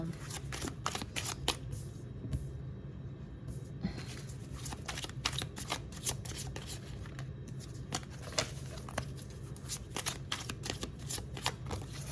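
Oracle cards are shuffled by hand in a quiet room, giving repeated quick riffling flutters and soft slaps in an uneven rhythm, close and clear.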